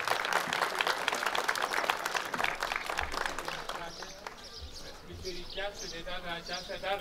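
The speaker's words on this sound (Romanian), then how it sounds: "Le mulțumim și aplaudăm" Sustained crowd applause at a Heroes Day commemoration, a dense clatter of clapping for several seconds that gives way to someone speaking over a faint lingering background.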